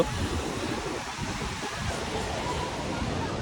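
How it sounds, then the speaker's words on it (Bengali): Ocean surf at a Chennai beach, a steady broad wash of breaking waves heard from close by, fairly faint and continuous with no clear individual crashes. "দেখে নাও চেন্নাইয়ের সমুদ্র"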